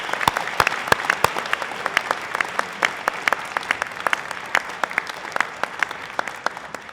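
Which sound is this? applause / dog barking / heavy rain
applause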